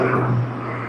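A small 1.1-litre car engine hums loudly and close by, with a steady low drone that eases slightly partway through.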